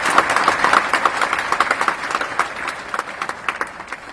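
A live audience bursts into applause, many hands clapping in a dense patter that starts strong and slowly thins and fades over a few seconds.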